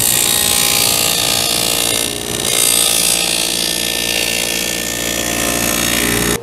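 A power saw fitted with a dado blade cuts a rabbet along the edge of a board for a shoe stand, a steady, loud whine that holds throughout with one brief dip partway through.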